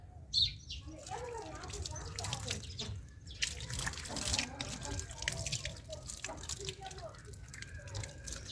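Water is poured from close by onto an aloe vera plant in a village setting, with soft trickling and dripping throughout and faint bird calls in the background.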